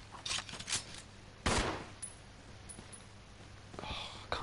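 Gunfire from shooting zombies in Resident Evil Zero on PS4: a few sharp shots scattered through the stretch, one loud blast near the middle and quieter cracks around it, over a low steady game hum.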